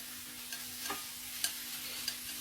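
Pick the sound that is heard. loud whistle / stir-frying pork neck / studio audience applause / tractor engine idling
stir-frying pork neck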